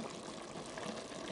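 Vinegar (9%) poured into a pot of simmering cabbage soup, a steady close liquid splash and bubbling rushing continuously with no pauses.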